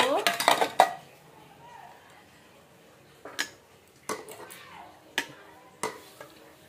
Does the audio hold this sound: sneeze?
no